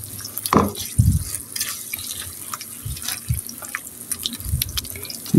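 Milk, flour and cornflour get stirred together in a pot, producing wet sloshing and a few knocks of the spoon in an uneven rhythm, close and fairly loud, with no talking.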